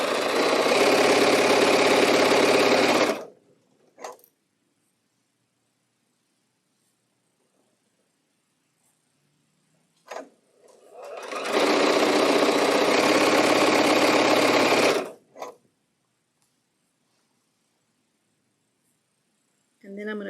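A sewing machine stitches a quilt block in two steady, loud runs of about three and five seconds, separated by near silence with brief clicks as the foot and needle are handled.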